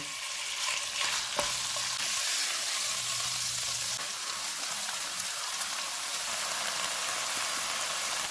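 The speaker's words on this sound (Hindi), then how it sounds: "इसमें 200 ग्राम बीफ का कीमा डालेंगे। 1 टेबलस्पून अदरक और लहसुन का पेस्ट। चूल्हे को मीडियम रखेंगे, इसको 3 से 4 मिनट तक भूनेंगे।" Steady, dense sizzling of beef mince with ginger-garlic paste frying in hot oil over medium heat, close and continuous, with occasional scrapes of stirring and no voices.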